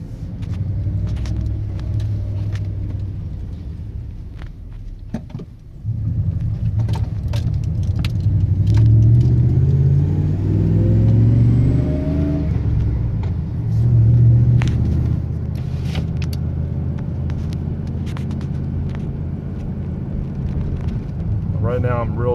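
A 2003 Ram Hemi pickup fitted with a Taylor Helix throttle body spacer, heard from inside the cabin while driving gently: a deep engine rumble that swells with throttle, some light rattling and a brief dip partway through.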